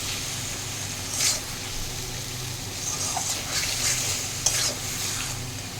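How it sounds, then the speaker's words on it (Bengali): Bengali masala paste fries in oil in a pan for a potol, prawn and potato curry, giving a steady close sizzle with occasional stirring scrapes and spatters. "এটা একটু ভাজা ভাজা হোক"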